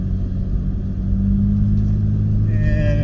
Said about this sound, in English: We're going to downshift into second.